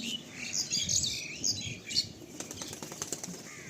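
A male Madrasi pigeon in molt beats its wings in quick, close flurries of flapping, joined by a few faint chirps near the end.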